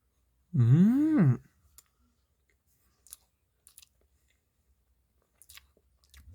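A short hummed vocal sound comes first, then a few soft, sparse chewing clicks and squishes as vanilla and chocolate castella cake is eaten close to the mic in an otherwise quiet room.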